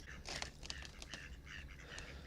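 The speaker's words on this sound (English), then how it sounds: "We've got the ducks at the back of the boat." Ducks gather behind a boat on the Norfolk Broads and give faint, scattered quacks over steady outdoor ambience and low engine or water noise.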